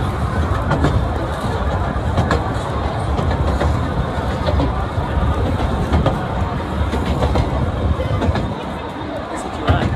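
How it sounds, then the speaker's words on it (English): Riding aboard a passenger train in Australia, with a steady loud rumble and rhythmic clatter of wheels on rails filling the carriage, and faint crowd chatter under it. "look at us, we're on a train."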